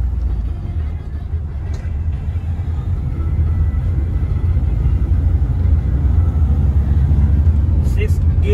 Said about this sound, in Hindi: गाइस मैं अभी आपको गाड़ी ड्राइव करके दिखा रहा हूँ